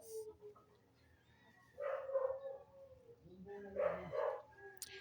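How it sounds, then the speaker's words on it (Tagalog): A dog howls in the background in two drawn-out, wavering bursts separated by a pause, fairly faint, followed by a short sharp sound at the end. "May aso."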